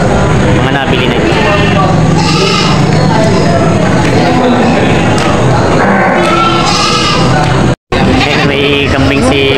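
Goats bleating repeatedly in a noisy crowd at a livestock market, several animals calling over each other alongside constant background chatter.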